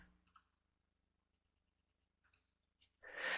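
A few isolated computer mouse clicks are heard while a file is saved in MATLAB, sharp and close in a quiet room, followed by a brief burst of rustling noise at the end.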